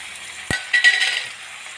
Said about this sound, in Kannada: 3 ಸರಿ ತೊಳೆದಿರುವಂಥ ಬದನೆಕಾಯಿನ ಹಾಕ್ಕೊಳ್ತಾ ಇದ್ದೀನಿ.